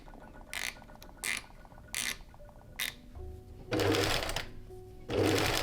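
Sewing machine stitching lace onto silk with white thread, the mending of a vintage wedding dress: short bursts of whirring stitches, then two longer, louder runs near the end.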